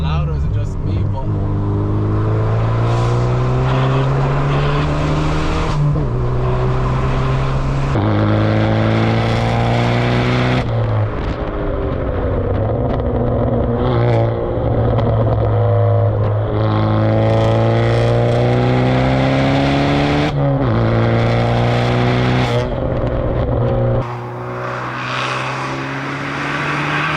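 A loud 335hp Vauxhall Astra J GTC VXR engine revs and pulls through several gears from inside the car, its drone climbing in pitch and dropping sharply at each shift, with a quieter stretch near the end.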